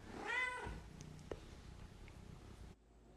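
A cat meows loudly once, a drawn-out wail, and then soft shuffling and a faint click follow before the sound cuts off abruptly.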